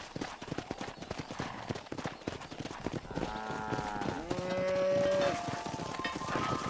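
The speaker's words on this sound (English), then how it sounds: "Herd the cows down the road." Cattle moo in long, drawn-out calls while being herded down a road in the video game Red Dead Redemption, over a steady patter of horse hooves clip-clopping throughout.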